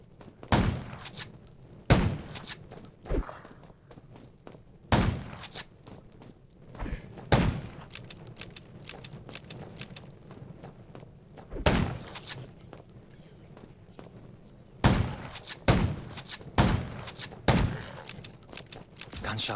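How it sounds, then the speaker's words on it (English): Gunshots in a zombie video game: sharp, loud single shots and short bursts spaced irregularly over a quiet background, with a brief tonal beep partway through. "Gunshots will attract more zombies."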